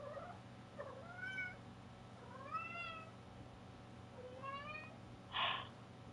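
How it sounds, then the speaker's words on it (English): A house cat meows repeatedly, about five drawn-out rising and falling cries spaced a second or so apart, fairly close against a quiet room hum. "when it has energy, it's just gonna meow until you pet it a lot"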